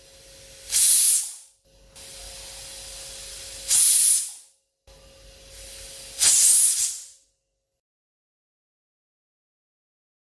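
Three loud, hissing pressure cooker whistles while cooking stuffed bitter gourd curry, each a rising burst of steam lasting about a second, separated by quieter pauses before silence.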